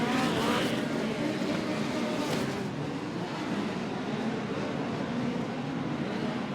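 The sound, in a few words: midget race cars racing on dirt oval track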